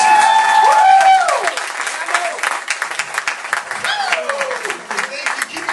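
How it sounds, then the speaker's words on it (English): A comedy club crowd claps and cheers loudly for comedian Mo Haskins. Whoops rise over the dense, close applause at first, and the clapping keeps going as it slowly thins out. "if you give a big round of applause for Mo Haskins"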